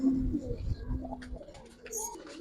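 A Giribaz pigeon coos close by in a couple of low, throaty, rolling calls, with faint voices and other small noises in the background.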